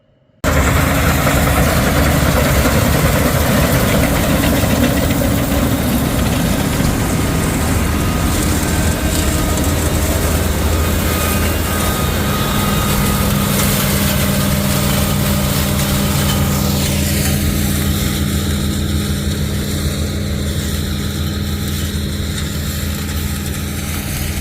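Loud, steady machinery drone of a combine harvester threshing soybeans in a field, running continuously, with a constant low engine rumble and broadband mechanical noise throughout.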